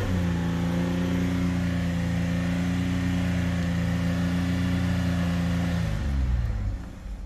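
A junk Chevy Equinox engine revved hard with the pedal to the floor: a loud, close, sustained drone holding a steady pitch, then dropping off as the throttle is released near the end.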